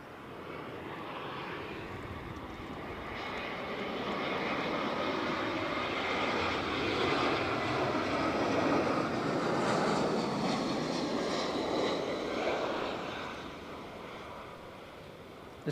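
A jet airliner at Barcelona El Prat airport roars past, its engine noise building from a distant rumble to a broad loud swell and then fading away.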